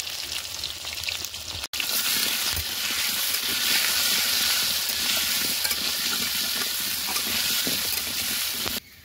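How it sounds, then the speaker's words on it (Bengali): Potatoes seasoned with salt and turmeric frying in a pan, a steady loud sizzle and crackle close up, continuous for the whole stretch apart from a brief dropout early on. "আলু ভাজা হতে লাগুক"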